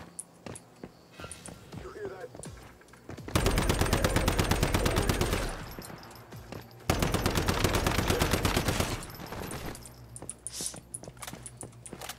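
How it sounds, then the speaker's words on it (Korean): Automatic gunfire rattles out in two loud, sustained bursts of a few seconds each in the survival shooter Once Human, with a voice talking between and around the bursts. "총을 쏘면서 점프를 한다?"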